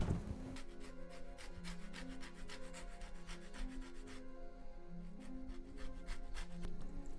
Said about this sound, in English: I want to get zest for this lemon and set that aside.